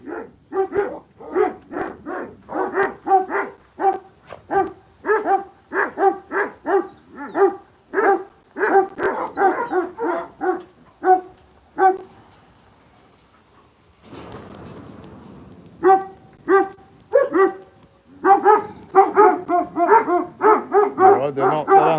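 Several dogs bark repeatedly and close by in a rapid, agitated series, with a short lull and a burst of rustling before the barking resumes, and a person speaks briefly between barks.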